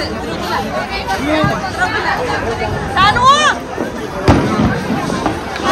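A busy Gujarati street food court, with dense crowd chatter and mixed voices filling the air steadily, punctuated by a few sharper clatters and shouts, heard close and fairly loud.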